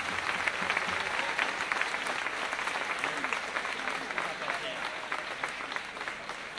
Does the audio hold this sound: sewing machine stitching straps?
no